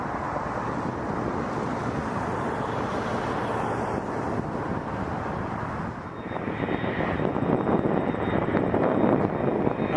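An airliner lands on runway 24 left at Toronto Pearson Airport, its broad engine roar steady and fairly loud, shifting to a rougher, rushing rumble partway through as it touches down.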